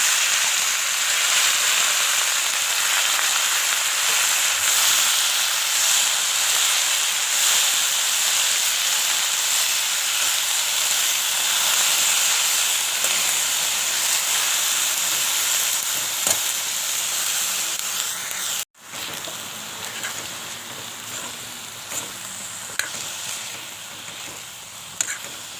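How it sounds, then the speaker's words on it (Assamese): Cut potatoes and bathua greens sizzle steadily in a hot pan, a loud, continuous frying hiss heard up close with brief stirring scrapes and a short interruption near the end. "আৰু এতিয়া মই কাটি থোৱা আলু আৰু"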